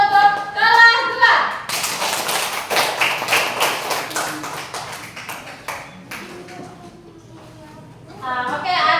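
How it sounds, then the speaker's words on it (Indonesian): Schoolchildren in an Indonesian classroom clap their hands together in a fast, ragged burst of sharp slaps lasting several seconds, with a teacher's voice speaking before and after. "sekarang kita tepuk tangan dulu untuk kelas 2."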